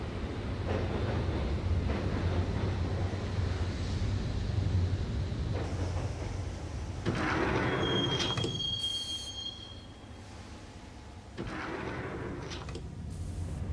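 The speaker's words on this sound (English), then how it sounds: "the train doors had already shut behind me, and I was in for the ride" Rumbling of a moving train from inside a carriage in the game Max Payne, with loud metallic wheel squeals rising and fading, and quieter stretches between.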